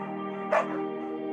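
A single sharp bark from a dog in the game Firewatch, one short yelp rising clearly above a steady humming background tone, close and brief, with nothing else breaking the drone.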